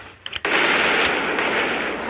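Gunfire in a Roblox Squid Game round: a couple of short cracks, then a loud, sustained burst of rapid shots that trails on to the end.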